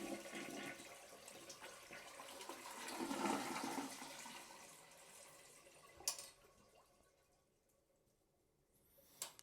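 A household toilet flushes during a tank rebuild, its water rushing and draining steadily for about six seconds, then quieting to faint trickles with a couple of soft clunks near the end.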